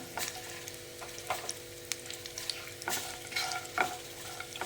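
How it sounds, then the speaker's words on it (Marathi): Cumin seeds and whole spices fry in hot oil in a pan for a paneer dish, a steady close sizzle broken by several sharp crackles and pops and occasional stirring scrapes. "हे सगळं एक अर्धा मिनिट आपण छान परतून घेऊया तेलात"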